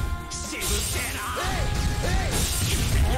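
Guard breaking in an old Kamen Rider fighting video game, a sharp crashing smash with mechanical clatter and swooping electronic effects over dense, continuous game sound.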